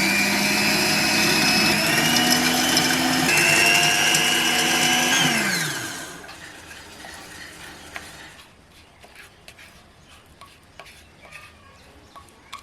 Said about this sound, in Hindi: और फिर हम इसको अच्छी तरह से ब्लेंड कर लेंगे